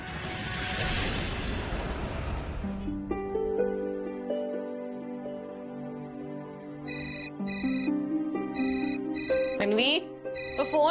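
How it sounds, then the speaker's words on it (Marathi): A telephone rings indoors in a Marathi TV drama scene, starting a few seconds in with a repeating electronic ringtone pattern. People talk around it and nearby movement sounds come before it. "तो फोन बघ जरा."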